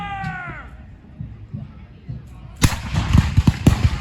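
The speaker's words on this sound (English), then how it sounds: "Cannon firing now." A faint whistle-like tone at the start, then a heavy boom from a cannon at a historical battle reenactment in Vincennes, followed by a rumbling series of deep blasts and crackling echoes, like distant cannon fire.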